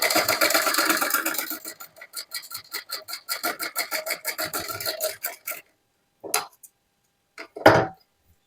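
Sewing machine stitching a suit seam, a fast run of rhythmic mechanical rasping clicks that slows into separate strokes, stops, then gives a few short isolated bursts near the end.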